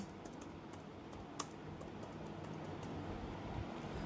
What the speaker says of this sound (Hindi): तो अब आपको यहाँ पे पासवर्ड डालना है। मैं पासवर्ड 1 मिनट डाल दूं।